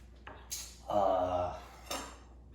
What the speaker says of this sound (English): There's my pan. I'm sorry, looking for my pan.